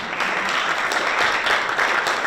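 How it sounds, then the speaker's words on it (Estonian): An audience at a health day event in Rapla Cultural Centre applauds, producing a continuous, fairly loud and even patter of many hands with no speech over it. "teine aplausi saatel tänu läheb Agole"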